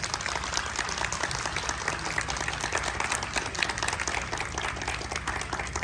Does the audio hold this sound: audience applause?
yes